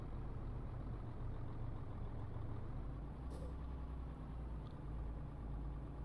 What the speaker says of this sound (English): Don't like the sound in this engine. It's like a sewing machine.